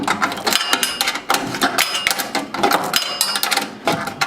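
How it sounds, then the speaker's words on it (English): Quick metallic clicks and ratcheting taps of a number 10 wrench loosening the fuel hopper bolts on a Davy Crockett pellet grill, close and loud in short irregular bursts with brief pauses. "I have a number 10 wrench. We're just going to loosen these up."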